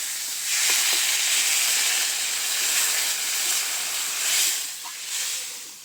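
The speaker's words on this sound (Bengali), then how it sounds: "এবারে আমি এখানে পরিমাণ মতো জল দিয়ে দেবো" Water poured into a hot pan of frying fish curry with tomato and potato sets off a loud, steady hissing sizzle that swells and fades in waves over several seconds, close by, with no talk.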